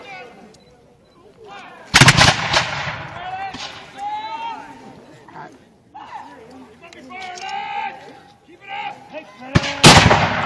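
Smoothbore muskets firing at a battle reenactment, with two sharp, loud broadband shots about eight seconds apart and speech running throughout.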